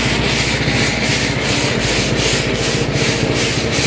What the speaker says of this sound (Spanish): Hasta que empiece a sonar, pues empieza a saltar aquí el trigo.